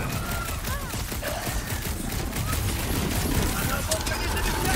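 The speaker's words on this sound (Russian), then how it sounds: "Я стреляю ему в спину, а пули как будто отскакивают." Sustained rapid gunfire in the video game Marvel's Guardians of the Galaxy, a continuous loud fusillade of shots packed with battle noise and game effects from start to finish.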